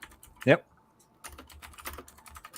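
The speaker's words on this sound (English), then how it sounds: "typing on a 1990 keyboard" Typing on an old 1990 computer keyboard: one sharp loud burst of clacking keys, then a quieter stretch of scattered keystrokes with faint room noise.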